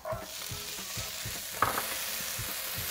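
Peas tossed into a hot pan of fried rice with scrambled egg, stirred in a regular rhythm of scraping strokes over a steady close sizzle, with one sharper clink partway through.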